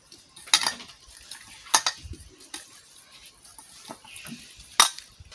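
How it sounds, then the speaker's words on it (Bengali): Salt and turmeric being rubbed into pieces of rohu fish, heard as close, intermittent squelching and rubbing with a few sharp clinks scattered through, with no talking. "মাছে লবণ আর হলুদ মাখা দিয়ে দিচ্ছি এবারে মাখাই নিচ্ছি"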